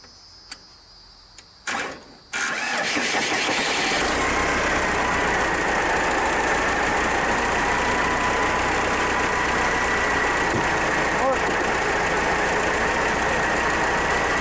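A Case 580B backhoe diesel engine is shorted across to start, with a few clicks and brief cranking. It then catches and settles into a steady, loud, close idle that runs without a break.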